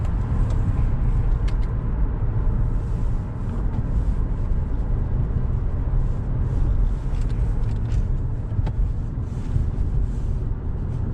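A car rolls steadily along before joining the highway, with a constant low road and engine rumble heard from inside the cabin and light wind buffeting the microphone.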